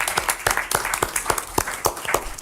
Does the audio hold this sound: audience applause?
yes